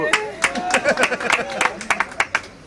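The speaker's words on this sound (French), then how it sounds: "On peut applaudir très fort." Wedding guests clap at a reception, a run of distinct nearby handclaps mixed with overlapping voices and chatter.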